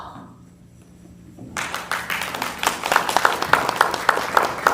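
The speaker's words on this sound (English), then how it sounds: "Oh, why are you clapping?" Audience clapping breaks out abruptly partway through at a high school fall play, a live courtroom-style stage production of The True Story of the 3 Little Pigs, building into steady, fairly close applause with sharp individual claps after a quiet start.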